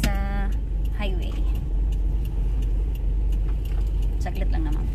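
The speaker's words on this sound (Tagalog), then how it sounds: "Ando na yung sasakyan niya sa highway." A car runs along a highway, its steady road rumble filling the background while a person talks over it and a few short chirps and jingles ring out.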